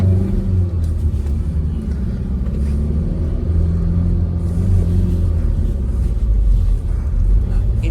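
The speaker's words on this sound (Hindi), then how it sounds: "इंजन साउंड सुन रहे हो भाई" Engine of a Tata Safari Classic SUV revving in traffic, heard from inside as a steady, loud low rumble that swells slightly without pause.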